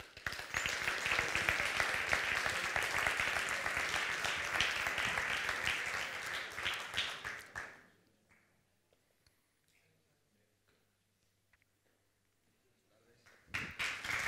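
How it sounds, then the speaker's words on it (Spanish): An audience applauds authors Javier Moro and Antonio Orejudo as they come out, a full steady round of clapping for about seven seconds, then near silence, then clapping briefly resumes. "les pido un aplauso para ellos"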